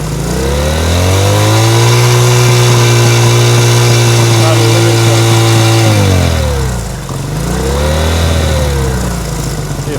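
A 1970 Honda CL100 motorcycle with an air leak, running loud and close on partial choke, its engine holding a rough steady rev, then dropping off and rising again as it struggles to stay running.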